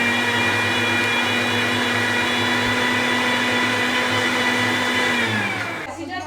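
A blender or grinder whirs loudly and steadily as it grinds food into powder, a constant high motor drone that winds down abruptly near the end, with no talk.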